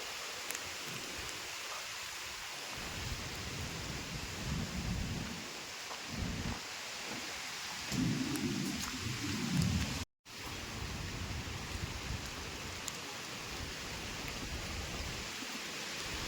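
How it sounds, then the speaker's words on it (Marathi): Steady heavy unseasonal rain roars throughout during a windstorm in Konkan, India, with deep low rumbles of thunder rolling in bursts and one sharp brief dropout midway. "हो का खूपच पाऊस येलो इकडे."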